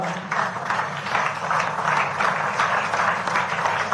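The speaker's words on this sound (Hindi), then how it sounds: "एक बार आप सबकी जोरदार तालियां" A crowd at a ceremony honouring cricketer Kranti Goud and her father breaks into sustained applause, a dense wash of clapping that holds steady for several seconds at moderate distance.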